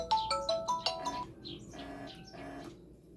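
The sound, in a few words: smartwatch incoming Bluetooth call ringtone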